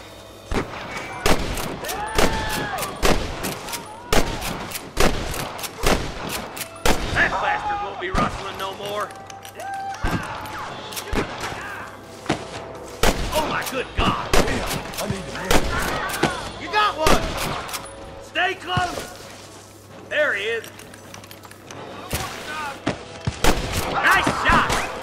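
Gunfire in the PS3 Western game Red Dead Redemption rings out as many sharp, loud shots, some in quick bursts and others spaced apart, mixed with in-game voices talking.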